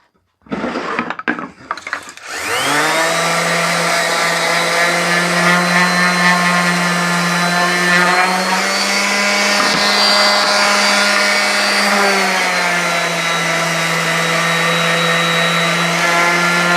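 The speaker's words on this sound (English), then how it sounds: "So I'll go ahead and put the sander back on." A few rattling clicks give way to a loud, steady electric power sander whine on wood that runs continuously, close up, with a slight dip in pitch near the end.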